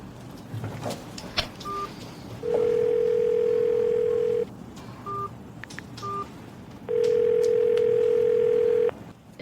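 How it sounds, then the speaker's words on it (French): A telephone call rings out unanswered: two long, steady ringback tones a few seconds apart, with short electronic beeps between them, clear and close with no voices. "Réponds au téléphone, Lucas"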